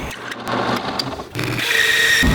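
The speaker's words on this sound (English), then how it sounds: "we go to the drill press to drill out that curve" A steady machine whir with a drill bit grinding into wood, the pitch shifting as it cuts, loud and close.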